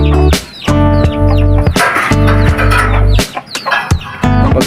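Loud, close clucking from a hen settling onto a nest, with a rooster-like call mixed in, repeated in bursts with short pauses between.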